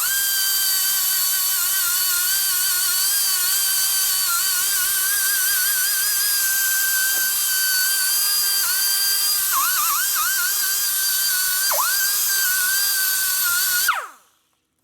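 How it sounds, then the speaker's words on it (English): A high-pitched power tool whines steadily as it deburrs a cylinder head port on a 1983 Harley-Davidson FXRT 80ci Shovelhead, its pitch dipping briefly under load several times, close and loud before cutting off abruptly at the end. "Now we just deburr it a little bit."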